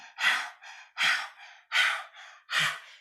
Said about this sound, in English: Open the mouth and we're breathing through the mouth.